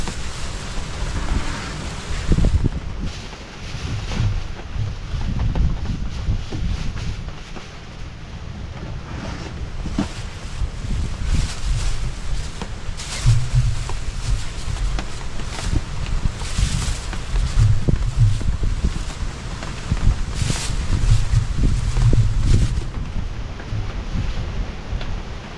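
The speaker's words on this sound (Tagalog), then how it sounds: "Masakot ang hangin." Strong gusty wind blows outdoors near a hut, roaring steadily across the microphone with low rumbling buffets throughout and no voices.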